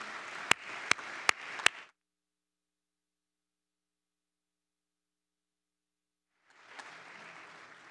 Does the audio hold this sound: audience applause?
yes